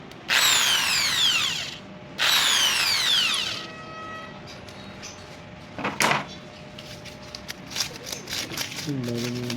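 An electric drill deepening a hole for a bolt extractor, two loud whining bursts that rise in pitch as they spin, followed by clicks, taps and scraping handling sounds.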